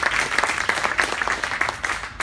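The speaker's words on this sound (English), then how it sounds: "So a round of applause for Peter, who's managing that organization." A burst of applause, dense steady clapping from a crowd filling the room, loud and continuous with no talk over it.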